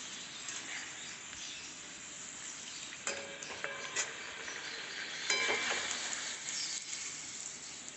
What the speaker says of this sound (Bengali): ভেজে নিচ্ছি আর আমি কীভাবে ভাজছি আপনারা প্রথম থেকে শেষ পর্যন্ত দেখুন